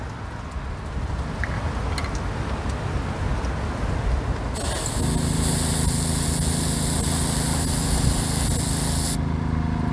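Spray painting a wet coat outdoors in the wind: gusty wind noise at first, then a loud, steady spray hiss from a spray gun that runs for several seconds before cutting off abruptly near the end.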